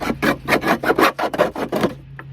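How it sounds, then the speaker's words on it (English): A hacksaw cuts through the thin plastic lip of a milk jug in quick, rasping back-and-forth strokes, about eight close strokes in a row before stopping. "take a hacksaw and you have to saw the lip off of this thing"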